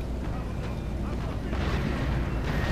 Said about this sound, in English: That artillery does not help my men's resolve.